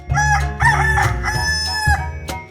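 A rooster crows in a 3D animal video game, a loud, clear, drawn-out cock-a-doodle-doo with several stretched harmonic phrases, heard alone with no talk.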